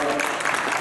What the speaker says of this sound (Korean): 감사 박수 한번 하겠습니다.